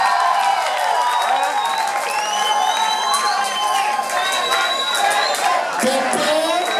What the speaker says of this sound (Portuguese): Aplausos para Lele